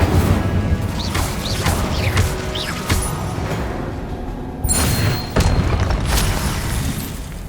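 Spell impacts in Hogwarts Legacy, including Confringo and Incendio, hit in rapid succession, loud booming crashes and sharp whacks with whooshing streaks over a continuous dense combat din, close and forceful throughout.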